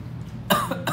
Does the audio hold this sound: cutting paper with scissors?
no